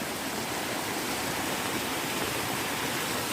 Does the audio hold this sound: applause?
no